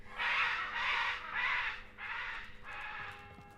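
A macaw lets out five harsh, raspy squawks in a row, loud and close, with short gaps between each call.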